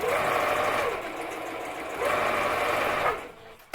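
A sewing machine runs stitches through a paper art journal piece, along a row of numbers: two steady, close mechanical whirring bursts separated by a short pause, then a brief stop and a quick clunk.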